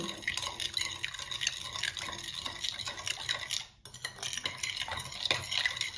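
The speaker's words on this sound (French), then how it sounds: "on met l'eau, on rajoute la levure, on brasse bien" Water and yeast get stirred in a bowl for a fermented dough for an Easter colomba, with a utensil clinking and swishing in a steady, close rhythm and a brief pause partway through.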